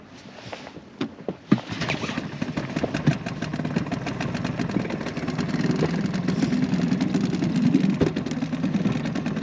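An inflatable boat's outboard engine on Loch Etive in the Scottish Highlands runs with a steady mid-pitched hum that builds and holds after a few knocks and clicks at the start, fairly close, with no talk.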